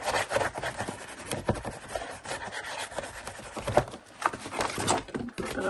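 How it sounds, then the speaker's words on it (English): A folded paper folio being burnished, with firm, close rubbing and scraping strokes that sweep back and forth across the crease, continuous and fairly loud, with no voices. "And then we want to burnish."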